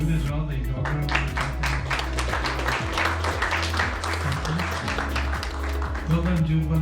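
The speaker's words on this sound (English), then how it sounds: "And a big round of applause to Jude as well, the geographer." A room of people at an AI community meetup clapping for a presenter, moderate applause blended with a steady low hum and voices throughout.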